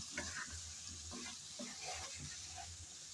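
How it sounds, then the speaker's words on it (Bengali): Chicken cooking in a spice paste in a pan for a bottle gourd curry, stirred with steady scraping and a soft, continuous sizzle, close and moderately quiet with no talk. "আমি তো বেশ কিছুক্ষণ যাবত নেড়েচেড়ে ভালোভাবে কষিয়ে নিয়েছি"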